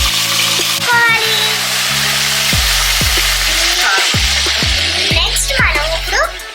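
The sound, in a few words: chicken frying and being mixed in a pan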